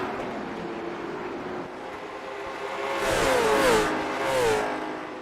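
Race car engines accelerating at Nashville Fairgrounds Speedway during a Monday night series race, a steady distant drone that swells as cars pass closer, with rising and falling engine tones near the end.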